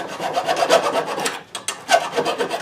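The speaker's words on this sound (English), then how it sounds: "now you probably need a file, a rasp or something. Take the burrs off." Hand file or rasp scraping burrs off cut copper metal, a run of steady back-and-forth rasping strokes, close and fairly loud, with a brief pause partway through.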